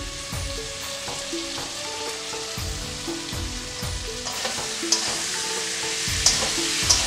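A ground paste of mustard, ginger, onion and green chili frying in a pan for a pabda fish curry: a steady crackling sizzle with soft stirring knocks and a few bright clinks, fairly quiet and close.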